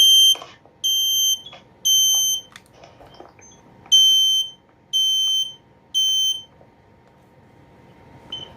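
A Kidde Fyrnetics 1275 smoke alarm from 2003 sounds during a test, sharp loud piercing beeps in a repeating pattern of three long tones, a pause, then three more, close by and alone.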